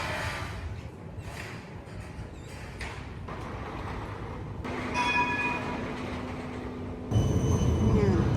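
A tram passes along an Amsterdam street with a rumbling, rolling approach and a sustained wheel tone, heard outdoors amid city ambience.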